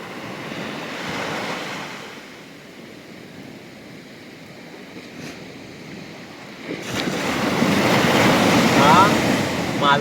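Sea waves roll and wash ashore at Nivati beach on the Konkan coast, a steady broad surf roar with wind buffeting the microphone, swelling louder and nearer in the last few seconds.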